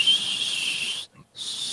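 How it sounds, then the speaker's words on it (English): A single sustained high whistled note, fairly steady, breaking off briefly near the end before resuming. "I can whistle. That's a note."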